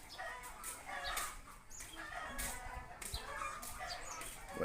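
Chickens clucking around a rural house, faint and somewhat distant, with short repeated bursts of clucks scattered through steady outdoor background noise.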